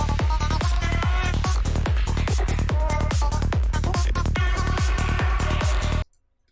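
Driving psytrance with a pounding regular kick and a gliding, voice-like synth lead riffing over it, loud and continuous until it stops abruptly.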